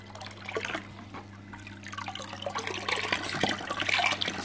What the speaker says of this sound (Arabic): ها الماء فين كيمشي دابا